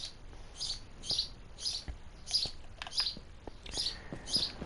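Repeated bird chirps in the video game Minecraft, played on PS4 in vanilla survival, arrive in short bright bursts roughly every half second, moderately loud against a faint background with no talk.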